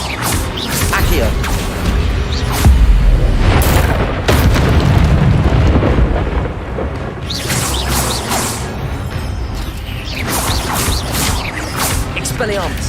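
Spell effects crackle and whoosh in Hogwarts Legacy, heavy booms and crashes landing loud and close in a dense combat mix, with a voice shouting during the fight.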